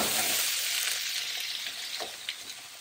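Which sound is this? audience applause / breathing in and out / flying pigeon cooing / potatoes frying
potatoes frying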